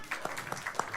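Comedy club audience claps for a few seconds at a live stand-up heat, a patchy spread of hand claps rising in brief bursts at moderate distance, with no one speaking over it.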